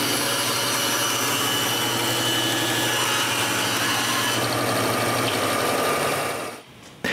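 A bandsaw slicing through the bottom of a wooden leg for a boat trailer stand, a steady buzzing whine with rasping blade noise that runs close and continuous before cutting off near the end.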